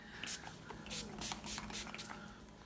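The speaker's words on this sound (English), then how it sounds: "I'm going to use the Urban Decay All-Nighter Spray." About six quick hissing spritzes from a bottle of Urban Decay All-Nighter makeup setting spray, nearly empty, in rapid succession, close and fairly soft, over a quiet background.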